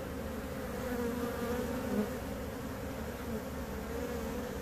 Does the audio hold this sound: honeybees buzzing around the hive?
yes